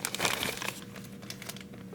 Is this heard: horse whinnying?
no